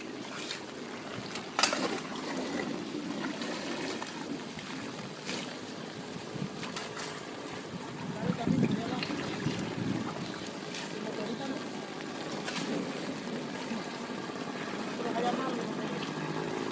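Rain falls steadily on the flooded streets of the La Chancleta community in Moca, a continuous broadband hiss mixed with gusty wind buffeting the microphone while people talk nearby.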